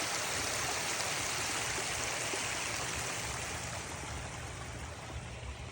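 Water pours over the edge of a dam in a steady, close rushing wash, a continuous broadband flow with no voices, easing slightly toward the end.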